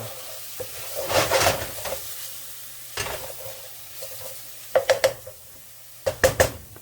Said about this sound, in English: throw in, I think it's about 6 or 7 cloves of minced garlic. Just saute that for about 30 seconds or so.